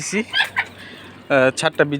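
Chickens on a hot rooftop give a handful of short, close clucks, a few scattered calls with one longer louder burst near the end.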